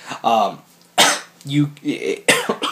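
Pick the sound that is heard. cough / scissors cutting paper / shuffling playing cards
cough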